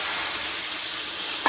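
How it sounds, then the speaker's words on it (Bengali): Taro pieces are stirred in a hot pan of sizzling oil and spices for a fish curry, a loud continuous frying hiss with a brief scrape of the spatula at the end. "কচু রেখে সব নেড়ে ফিরে আমি জল দিয়ে দিচ্ছি"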